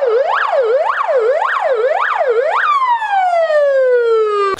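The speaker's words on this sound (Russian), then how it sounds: "К школе подъезжает скорая помощь." An ambulance siren arrives at a school during an earthquake drill, loud and close: a rapid repeated wail cycling up and down, then switching to a long tone that slides steadily downward as it winds down.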